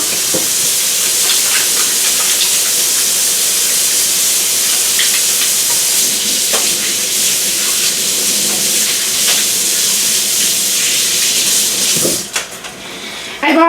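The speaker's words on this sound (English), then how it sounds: "I can hear the saute happening" Chicken sizzles steadily and loudly in a hot pan, a constant crackling hiss with occasional small clicks, without pause.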